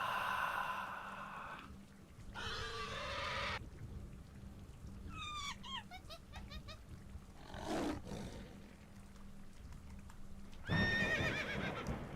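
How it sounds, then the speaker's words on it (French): Horse whinnying in the video game Niko: Through The Dream, several loud neighs with trailing tremolo among game ambience, clip-clop hooves and a steady low hum, one whinny rising near the end. "Non, ça, c'est le cheval."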